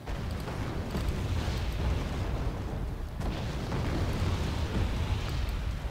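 Artillery shells exploding in the Wargame AirLand Battle strategy game, a dense, continuous roll of rumbling blasts and booms that swells slightly midway, with no talk.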